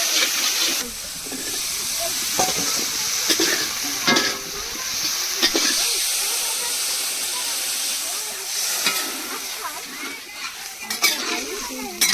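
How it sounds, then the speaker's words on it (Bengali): Ginger-cumin paste with ground dried chilli stirred into a simmering fish curry in a pot, giving a steady sizzle and hiss with scraping stirs and occasional utensil knocks, while people talk nearby. "মাছের ঝোলে এবার দেব আদা জিরে বাটা আর সঙ্গে শুকনো লঙ্কা বেটে রেখেছিল"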